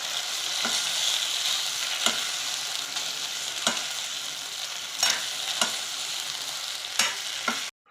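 Jeet vada frying in hot oil: a steady, moderately loud sizzle throughout, broken every second or so by short scraping strokes of stirring, with no voices.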